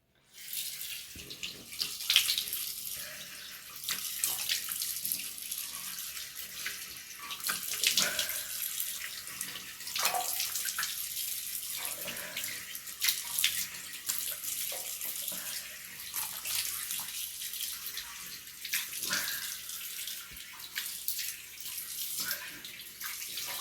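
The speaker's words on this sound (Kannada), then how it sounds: "ನಾನೀಗ ವಾಶ್ ಮಾಡ್ಕೊಳ್ತೀನಿ." A tap runs steadily into a sink while someone washes their face at home, the water splashing and changing as hands move through the stream, close and continuous.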